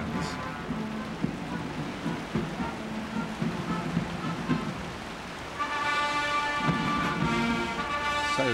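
Heavy rain pours down steadily on Horse Guards Parade during the Trooping the Colour ceremony in 2001, a dense hiss close at hand, with military band music faint underneath and rising a little toward the end.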